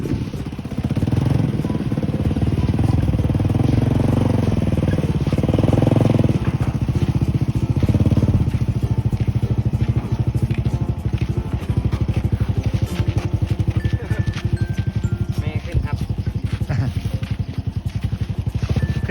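A motorcycle with a saleng sidecar rolls slowly uphill, its small engine chugging steadily up close, with people talking over it throughout.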